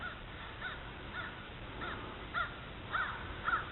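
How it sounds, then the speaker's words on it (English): Three crows caw repeatedly while chasing a hawk, their harsh calls coming in short bursts that grow louder and more frequent toward the end, heard outdoors with no talk. "Three crows chasing around some kind of hawk"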